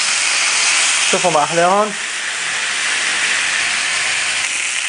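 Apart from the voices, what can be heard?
stuffed chicken breasts frying in a pan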